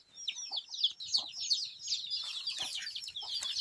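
Chickens cluck and chatter busily close by, with overlapping rapid calls and a few soft clucks in between, lively and continuous throughout.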